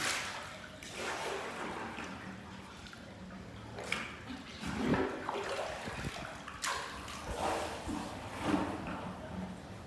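Water poured from a bucket during a home exercise session, splashing and sloshing in uneven bursts with a few heavier gushes, close and fairly loud.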